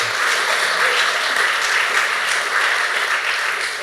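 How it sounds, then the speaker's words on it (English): Conference attendees clap together in a sustained, even burst of applause that carries from start to finish, fairly close and loud, with no speech on top. "Should we give them another clap?"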